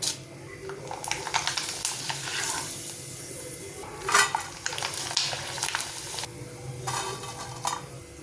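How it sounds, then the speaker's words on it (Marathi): Lattice-cut potato wafers deep-frying in hot oil, a steady close bubbling sizzle with brighter bursts and occasional metal scraping of a utensil against the pot, no voices. "अशाच प्रकारे आपण अजून तळून घेऊया"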